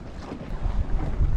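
Gusty wind rushes and buffets the microphone outdoors on a beach of an uninhabited island near open water, a low rumbling roar that swells and grows louder toward the end.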